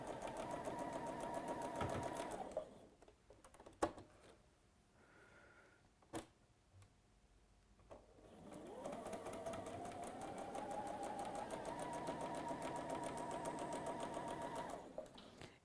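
A sewing machine runs steadily while stitching a quarter inch either side of a marked line on quilting fabric. There are two long, even runs split by a quiet pause holding a few clicks and knocks, close and clear, with no speech.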